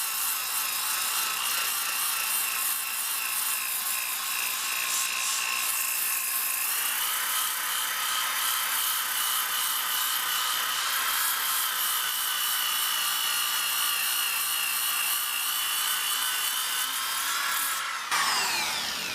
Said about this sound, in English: that hand sander makes light work of this too